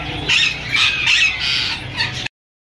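Green ring-neck parrots at a Sunday bird market, screeching in several harsh, repeated squawks, loud and close, before the sound cuts off abruptly.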